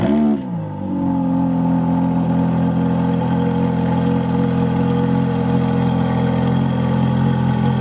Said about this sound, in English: This is how the car sounds on a cold start.